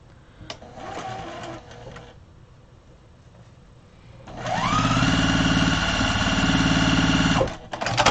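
Sewing machine stitching a large grocery tote bag, a brief whirring burst near the start, then a longer steady run of rapid stitching for about three seconds, close and clear, with quiet handling noises around it.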